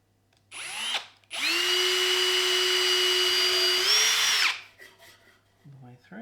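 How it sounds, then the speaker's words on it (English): A power drill whirs in two bursts, a brief spin and then a longer steady high-pitched run drilling two holes through a joint on a toy motorcycle, up close. "drill 2 holes"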